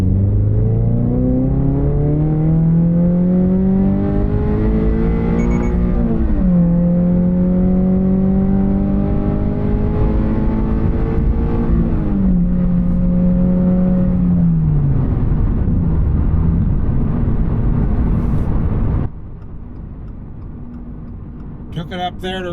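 GR86/BRZ sports car accelerating on a highway on-ramp, the engine climbing steadily toward redline in repeated rising pulls with brief drops at gear changes, loud in the cabin before settling to a quieter cruise.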